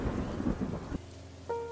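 Thunder rumbling through a heavy rainstorm over a village, a deep roll that fades into a steady wash of rain, with a faint tonal hum entering near the end; no voices.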